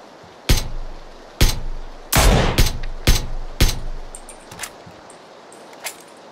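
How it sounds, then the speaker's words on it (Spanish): Gunshots from a battle royale video game come as a series of about seven sharp, loud cracks at irregular intervals. Fainter, softer shots follow toward the end. "Pero los tiros están allí."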